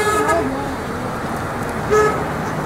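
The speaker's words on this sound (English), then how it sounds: "there were people that came by here honking" Car horns toot from vehicles passing a Black Lives Matter Martin Luther King Day gathering in Little Falls, Minnesota: two brief honks, one at the start and another near the end, over steady street noise with voices around.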